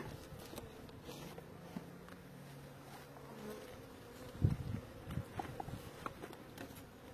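Honeybees buzz faintly around a hive in a quiet outdoor apiary, a soft continuous drone with a few nearer passes, joined midway by brief handling knocks and light footsteps.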